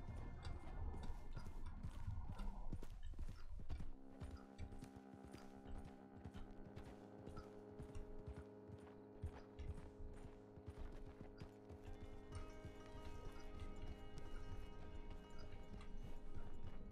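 Horse hooves clop steadily through the Red Dead Redemption 2 game world, a continuous rhythmic plodding layered over music and ambient game sound, with no neigh standing out clearly.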